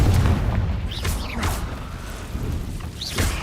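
Confringo blast spells in Hogwarts Legacy go off as a dense series of rumbling booms with a crackling whoosh, loud and continuous over heavy low-end combat noise, with no voices.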